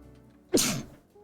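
One loud, close human sneeze, a short breathy intake snapping into a forceful burst, alone in a quiet room.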